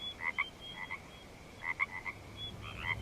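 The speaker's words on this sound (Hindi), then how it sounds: "बाहर से मेंढकों की आवाज आ रही है" Frogs croak outdoors in short repeated bursts, a few calls clustered together with pauses between, moderately distant against a quiet night background.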